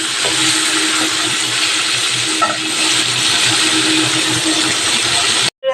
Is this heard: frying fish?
yes